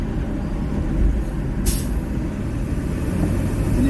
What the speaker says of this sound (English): How I get stuck behind a dumpster truck and on the side of a smart bus is beyond me, bro.